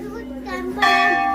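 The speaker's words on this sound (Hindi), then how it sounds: "ये देखो कितने बड़े बड़े घंटे लगे हुए हैं" Large temple bells at Chitai Golu Dev Temple in Almora strike and ring out in a bright, sustained tone, loud and close, with children's voices and other people audible around them.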